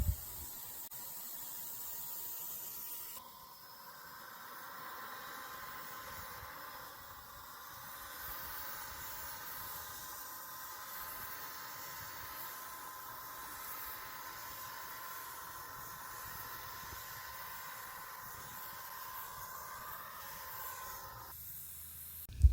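Green paint is sprayed onto a bamboo dresser outdoors: a steady, fairly soft hiss runs almost unbroken for about eighteen seconds, then stops abruptly near the end.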